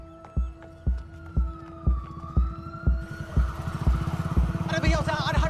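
An ambulance siren wails with a steady tone that slowly bends and grows louder as it nears, over a regular thumping beat, with excited voices rising near the end.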